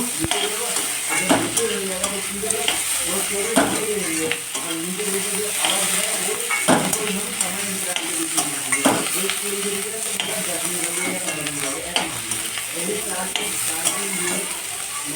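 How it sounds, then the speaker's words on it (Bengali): Vegetables frying in a pan for a vegetable dal, being stirred: constant close sizzle and hiss with rhythmic spatula scrapes repeating every second or two, loud and steady. "এইদিকে ভেজ ডাল করব তার সবজিগুলোকে একটু ভেজে নিচ্ছি"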